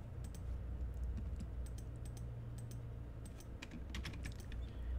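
Continuous rapid clicking of computer keyboard keys while typing room names in ArchiCAD, a busy irregular patter of close keystrokes over a low background hum, with no talking.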